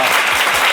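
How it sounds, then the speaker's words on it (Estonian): A studio audience claps in a short, dense burst of applause, loud and close, with no talking over it. "Teeme väikse aplausi."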